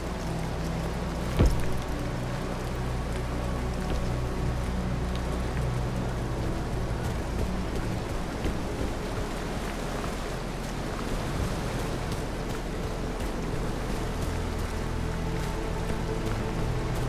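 Steady rain pours in the video game The Caribou Trail, a dense, continuous hiss with low rumbling undertones and a brief sharp crack near the start, no talk.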